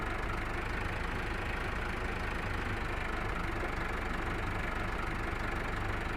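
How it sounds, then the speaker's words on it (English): A tractor engine pulling a drawn seeder runs steadily and loudly throughout, a constant low rumbling drone with no pauses or voices. "this tractor makes enough noise on its own"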